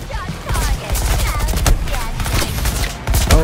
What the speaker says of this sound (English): Firing on Deadshot's target.